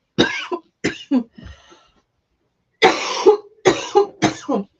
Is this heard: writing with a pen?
no